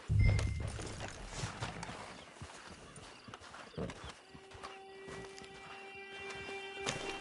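Horse hooves clip-clop at a walk in the open world of the video game Red Dead Redemption 2, a steady close rhythm of footfalls with a brief snort and game ambience around them.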